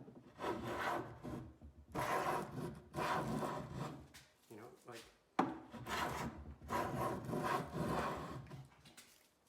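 Hand plane shaving wood in repeated long strokes, each a loud rasping swish lasting over a second, with brief pauses between passes; close and clear, no talk.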